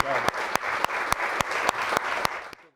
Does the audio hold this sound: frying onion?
no